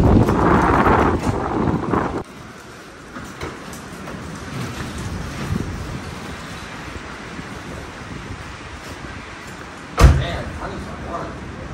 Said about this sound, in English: That wind is moving at 27 miles an hour.